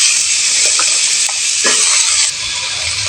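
Dried chilli, whole cumin, nigella, bay leaf, chopped onion and diced potato fry in a pan with a loud, dense, continuous sizzle, close up, with a few soft stirring knocks and no voices.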